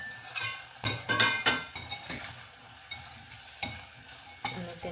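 A tomato drops into a hot frying pan of spices for sambar and sizzles, with several sharp stirring scrapes and clinks of a utensil against the pan over a steady frying hiss.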